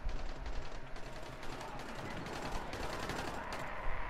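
Rapid automatic gunfire from the video game Dying Light 2 rattles on continuously in dense, overlapping bursts, loud and close with no pauses.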